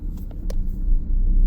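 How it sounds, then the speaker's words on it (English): Skoda Superb 1.6 TDI manual diesel estate setting off in first gear, a low engine rumble swelling as it pulls away, preceded by a few soft clicks inside the cabin. "So, into first gear, let's set off."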